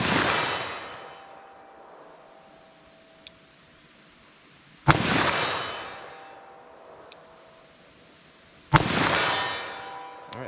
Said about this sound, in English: let's see what I can do with my 357 here.